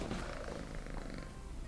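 A cat purrs in bed sheets, a soft, low, continuous rumble close up and quiet, with faint rustling of fabric.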